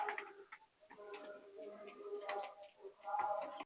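Teddy pigeons give soft, low cooing calls that repeat close by at low volume, with faint background voices.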